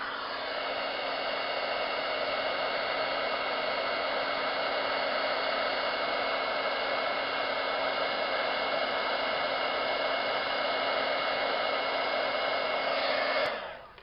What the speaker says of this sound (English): So now I'm going to heat set that.